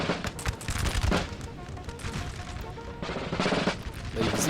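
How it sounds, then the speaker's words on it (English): Musket volley fire from line infantry, including British redcoats, in the strategy game Napoleon: Total War, heard as a dense crackle of overlapping shots that swells at the start and again near the end, with scattered impacts between. "the first volley is going off"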